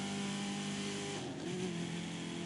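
A car engine in the racing game The Crew 2 drones with a steady harmonic tone, then shifts pitch midway as it revs through a turn, with a faint tire hiss beneath.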